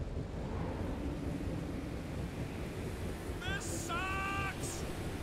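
Strong wind gusts in the video game Marvel's Guardians of the Galaxy make a constant roaring rush. A short tonal chirp cuts in near the end.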